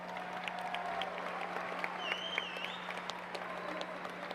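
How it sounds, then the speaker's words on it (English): Graduation audience at a 2019 high school ceremony applauds the students, a steady, fairly faint wash of clapping from a distant crowd, with a faint tonal hum running underneath and a few brief whistles. "Let's give each of these exceptional students a round of applause."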